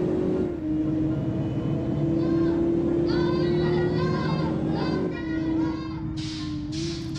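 A UD Quester cargo truck engine in the BUSSID driving game drones with a low steady tone that shifts pitch slightly as it runs, with some higher tonal sounds and brief noise bursts near the end.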